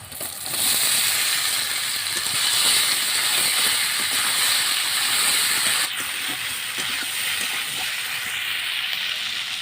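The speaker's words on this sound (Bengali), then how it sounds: "পেস্টটা হালকা একটু ভেজে নেব মশলাটা ভালো করে ভেজে নিয়েছি" Spice paste with turmeric, salt and chopped green chilli frying in a pan for cabbage pasta gives a steady, close hiss and sizzle that holds evenly throughout, with no talking.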